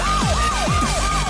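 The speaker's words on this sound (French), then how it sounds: "Une sirène d'alarme?" A wailing alarm siren sweeps up and down in a steady repeating cycle, loud and continuous, with no talk over it.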